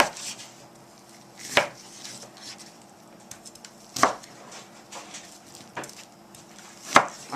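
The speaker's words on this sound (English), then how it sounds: "Now I'm chopping up beef." A few heavy knife strikes chopping beef on a board, spaced a couple of seconds apart, with quiet handling and shuffling in between.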